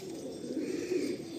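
A pigeon coos softly among birds offered for sale, a low, drawn-out murmuring call that swells slightly over quiet background hiss.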